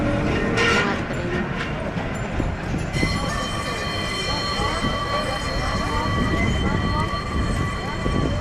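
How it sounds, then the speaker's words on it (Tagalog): Trains passing in Amsterdam, Netherlands, a loud continuous rolling rumble with metallic wheel squeal and sustained tonal whines, close by, with faint voices. "Mga tren."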